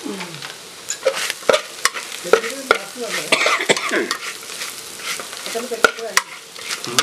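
A spatula stirs and scrapes beef fry in a pan with pepper powder and fennel seeds, giving repeated uneven scraping strokes over a soft, steady sizzle, close up and with no talking.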